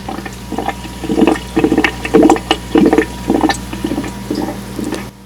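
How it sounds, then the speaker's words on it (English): An aquarium sponge filter in need of maintenance bubbles loudly and close, with irregular gurgling bursts and wet glugs in uneven clusters over a steady low pump hum. "If your sponge filter sounds like this,"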